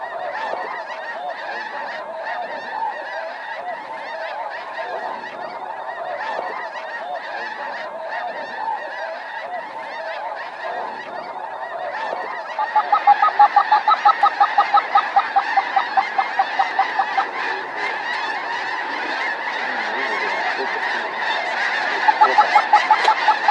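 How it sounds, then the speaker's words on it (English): A large flock of snow geese honks continuously during a hunt, a dense overlapping chorus of calls that swells louder partway through with rapid rhythmic honking bursts close by. "We still got geese coming."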